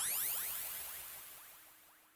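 An echo tail trails off a vocal sample in Serato Studio, with repeating swept reflections that fade steadily over two seconds into quiet.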